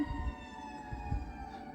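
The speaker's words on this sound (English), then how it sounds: "Sirens, I'm guessing we need to pay attention." An emergency vehicle siren sounds faintly and steadily in the background, a continuous wailing tone held through the short stretch with low rumbling underneath and no talking.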